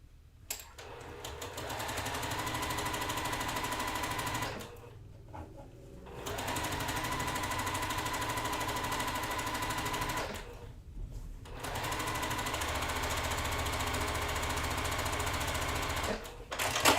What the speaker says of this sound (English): So we sew on one side, and then now we're going to sew the other side.